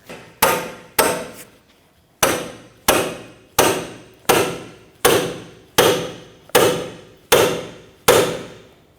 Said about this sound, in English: to separate the ball joint from that knuckle, I'm going to use what they call a pickle fork